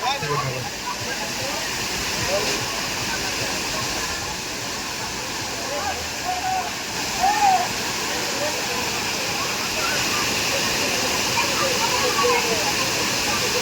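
A waterfall roars steadily and loudly throughout, a dense unbroken rush of falling water, with people talking faintly underneath at a family outing.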